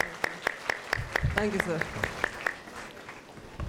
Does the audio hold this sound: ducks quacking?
no